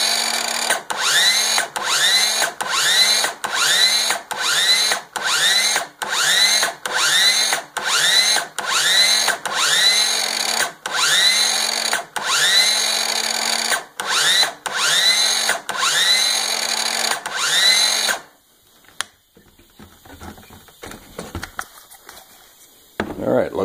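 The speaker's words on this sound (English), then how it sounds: "when the air compressor starts," A battery-powered air compressor runs loud and close, thumping in a rapid, steady pulsing rhythm for most of the stretch before cutting off into quieter handling noise.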